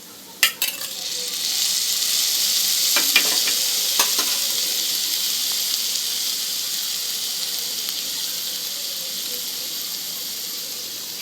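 Rice and chana dal fry with spices in a pan for chana dal khichuri, giving a steady close sizzle with a few sharp clicks of stirring near the start and around the middle.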